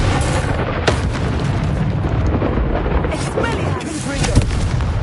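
Expulso spell cast in a duel in Hogwarts Legacy, a loud booming blast that fills the moment with a dense rumbling burst, while a voice speaks over it.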